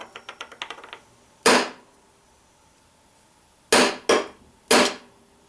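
An inertia bullet puller is whacked three times to empty an old cartridge, giving loud, sharp, separate impacts, preceded by a quick run of lighter clicks.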